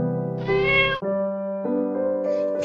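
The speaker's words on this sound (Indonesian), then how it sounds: "ia mengeong pelan seolah mengucapkan terima kasih" A kitten gives a few clear, drawn-out meows in quick succession, close and fairly soft, each rising and falling in pitch, with no talking around them.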